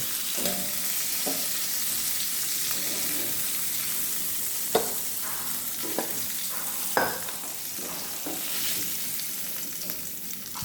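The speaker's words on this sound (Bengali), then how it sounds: "এ সাইডে ভাজা হয়ে গেছে, এখন আমি তুলে নেব।" Hilsa pieces frying in a pan give a continuous close sizzle, broken by a few louder clacks and scrapes as the fish is stirred or turned, with no voices.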